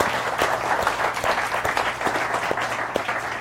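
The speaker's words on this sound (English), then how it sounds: "And give Cedric a big round of applause." A big round of audience applause at a boardroom-style presentation, dense steady clapping from many hands throughout, fairly close and even in loudness.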